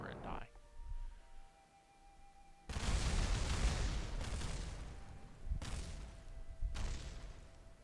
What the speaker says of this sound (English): it's a glorious crash and